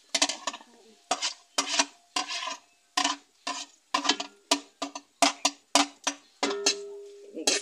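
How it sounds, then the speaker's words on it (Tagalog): Sliced corn kernels are stirred with browned onion and garlic in a pan for corn soup, with a steady run of close, rhythmic spatula scrapes and clinks against the pan over faint sizzling. "Igisa po natin siya sa sibuyas at bawang."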